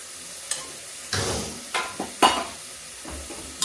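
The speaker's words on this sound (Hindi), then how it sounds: "इसको चला लेते हैं।" A spoon scrapes and stirs bottle gourd and chana dal in a pan, making several separate strokes over a soft sizzle, close and without talk.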